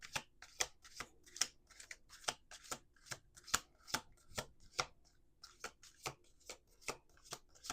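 Crisp riffle shuffles of a deck of cards, repeated in quick bursts with short pauses between, close and clear with no talking.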